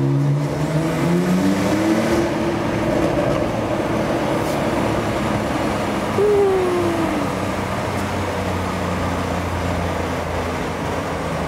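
A Porsche 911 Carrera 4S Cabriolet (991.2 facelift) accelerating in sport mode on the Autobahn, a loud continuous engine drone rising in pitch through the gears over steady road and wind roar.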